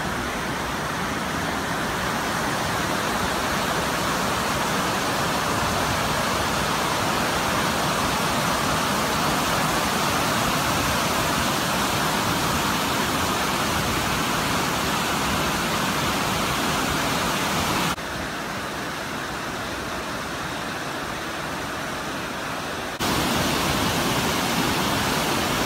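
A river rushes below a panoramic trail viewpoint in Kinaskan Lake Provincial Park. The loud, continuous roar of water stays constant throughout, apart from a brief quieter dip near the end.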